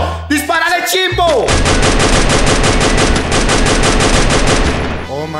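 Rapid automatic gunfire in a video game, a loud, sustained burst of machine-gun fire lasting several seconds after a brief shouted exclamation.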